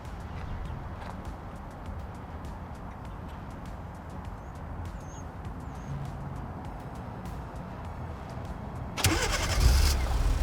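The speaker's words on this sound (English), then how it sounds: "And here you go, the car is running." A Kia Seltos from the 2019-2021 years is started by remote starter: quiet ambient background, then near the end the engine cranks and catches with a loud, close burst that settles into a running idle.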